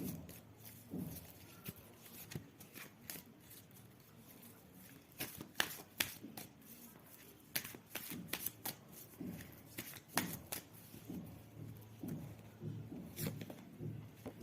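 Tarot-style reading cards being shuffled in repeated soft riffling bursts, close and fairly quiet, with no talk over them.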